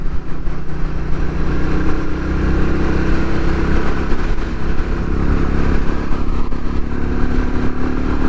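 Royal Enfield Classic 350 single-cylinder motorcycle cruising on a road, a steady loud engine drone with wind rush and a faint clatter running continuously, no voices.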